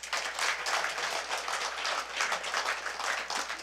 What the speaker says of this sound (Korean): 김홍신 강사님께 박수 한번 보내주십시오